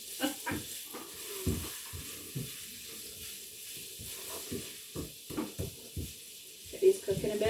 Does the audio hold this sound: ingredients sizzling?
yes